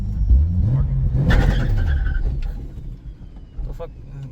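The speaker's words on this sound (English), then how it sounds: "You gotta let it wheel spin before you hit the brake." A turbocharged Lexus IS300 accelerates hard with wheel spin, its engine rising to a loud revving surge before tailing off, while people talk over it inside the car.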